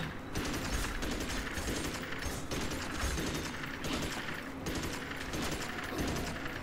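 Rapid gunfire in the wizard video game Magicka, dense and continuous bursts filling the whole stretch at steady loudness, with no voices over it.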